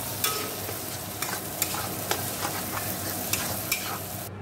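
Egg tarka curry with cumin-coriander powder and garam masala being stirred and fried in a pan, a steady close sizzle with sharp intermittent scrapes and clicks of the spoon against the metal, no voices.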